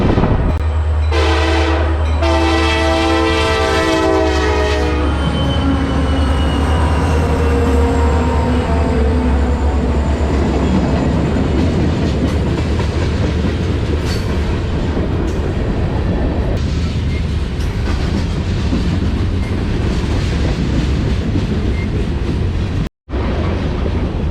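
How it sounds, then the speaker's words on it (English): A long train rumbles steadily past at a railroad crossing in Wellington, Ohio, a long horn blast sounding at the start, then continuous rolling wheel noise and rattling cars for the full stretch. "This train's been going for about 5 minutes here at this crossing."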